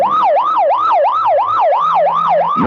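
An emergency siren from a police car or ambulance wails loudly and close, rising and falling in a fast regular cycle about eight times before cutting off abruptly.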